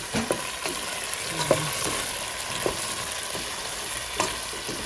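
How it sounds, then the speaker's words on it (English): Potatoes and cauliflower fry in a pan with a steady close sizzle, broken by scattered light scrapes and taps of a spoon stirring them. "I'll just keep stirring it in between."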